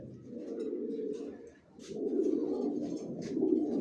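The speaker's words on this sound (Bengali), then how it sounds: "সব লংয়ের কবুতর পালি আমার লফটে, একই লাইনে জনসনের।" Long-distance racing pigeons of Johnson lines in a home loft give low, soft, rolling coos in two sustained bursts with a brief pause between, fairly quiet and close with no talk over them.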